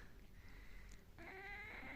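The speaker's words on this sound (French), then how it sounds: "Regardez ce petit chat qui râle." A small cat grumbling, then letting out a drawn, whiny meow partway through, close and fairly quiet with no talking over it.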